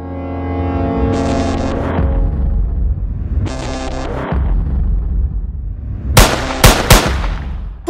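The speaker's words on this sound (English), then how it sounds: "I'm shooting first and asking questions later." Several loud gunshots ring out in a quick burst near the end, sharp cracks standing out over a constant engine-like hum and musical score in a zombie-hunting comedy scene.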